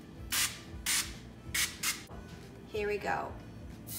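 Short hissing bursts of nonstick cooking spray hitting a griddle set to medium-low heat, several quick sprays in a row, with a brief spoken remark partway through.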